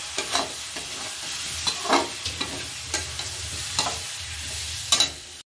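Spice masala fries in a pan over low heat, a steady sizzle broken by repeated scraping stirs of a spoon, close by, with no talk.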